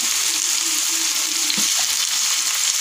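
Paneer tikka fries in a pan with a loud, close, continuous sizzle and crackle, and a brief stirring scrape partway through.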